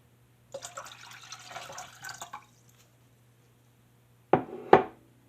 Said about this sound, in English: I'm going to put 3 1/4 cups of water in here